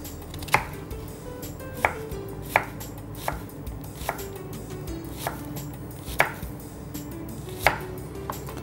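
Red onion being chopped with a knife on a cutting board in a kitchen, a series of about a dozen distinct, fairly loud knife thuds at an uneven, unhurried pace with no voices.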